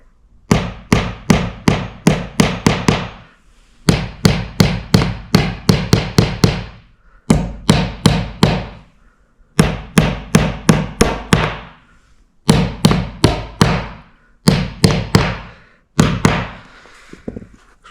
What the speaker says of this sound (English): And then we're going to gently tap them down with a hammer.